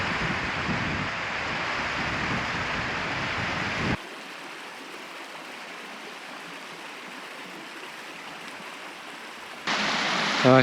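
A brook in the Howgill Fells, England, rushes and pours steadily, loud at first, then cuts to a faint, muffled wash before returning loudly at the end.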